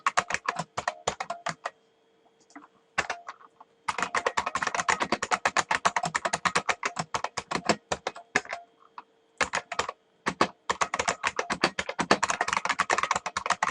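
Code being typed on a computer keyboard: rapid bursts of close, crisp key clicks, broken by short pauses, with no voices.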